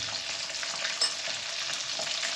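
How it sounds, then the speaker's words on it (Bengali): Potatoes fry in a pan with salt and turmeric during a country chicken curry made without onion or garlic, giving a steady, close hiss of sizzling oil with faint stirring scrapes and no voices. "আলুটা একটুখানি ভালো করে ভেজে নেব।"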